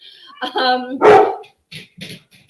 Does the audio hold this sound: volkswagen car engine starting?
no